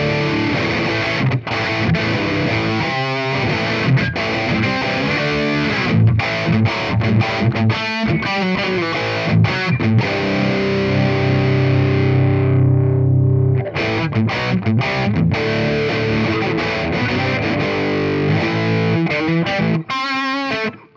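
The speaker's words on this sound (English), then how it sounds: "Starts to get a bit fizzy as you bring in the power tube distortion" Electric guitar runs through an Orange Tiny Terror amp simulation, its EL84 power tube distortion pushed into a fizzy, saturated tone across steady strummed chords and riffs, loud and alone.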